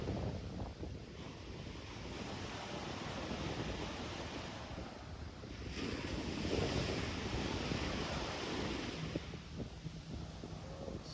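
Strong gusting wind buffets the microphone on Chaweng Beach, Koh Samui, Thailand, over steady crashing surf, a loud continuous roar that swells and eases throughout with no talking.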